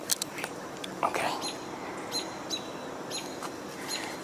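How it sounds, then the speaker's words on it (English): A few robin calls ring out intermittently, fairly close, over soft background noise with faint rustling. "So we're hearing at least a couple robins vocalizing."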